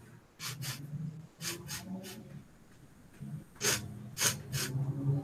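A human voice imitates a creature's slight sniffles during a tabletop Dungeons and Dragons game: short, close, breathy sniffs in quick pairs and clusters with small pauses between them.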